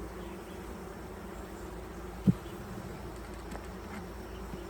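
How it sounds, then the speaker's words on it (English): Steady droning buzz of many bees around a nucleus colony hive, continuous and fairly close, with a single faint knock partway through. "There's still a lot of bees in the front nucleus colony."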